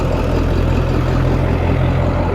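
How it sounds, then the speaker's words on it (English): Truck rumbling past on Commercial Street in Provincetown, a loud, steady low engine drone with broadband road noise throughout, close by and unbroken; no talking. "Waiting for the truck to go by."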